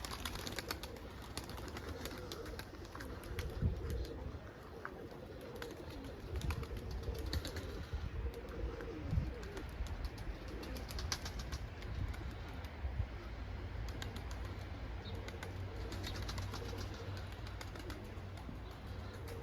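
Tumbler pigeons flying outdoors during a training flight, soft repeated cooing and bird calls over a steady low outdoor hum, with no talking.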